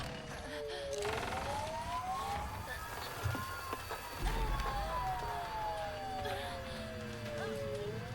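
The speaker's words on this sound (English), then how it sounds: "I hear police cars." Police sirens in the video game Silent Hill f wail in long rising and falling sweeps over steady traffic rumble, with thumps and background voices mixed in.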